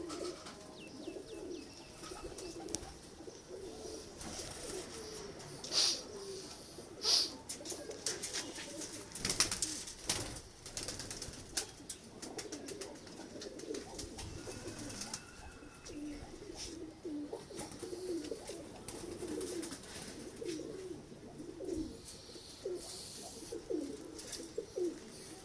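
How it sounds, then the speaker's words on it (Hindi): Soft, repeated cooing of pigeons kept by a fancier, a low rolling murmur of several birds layered together, fairly faint with occasional wing flutters and chirps in the background. "ये दोस्तों देखिए कैसे शानदार कबूतर है।"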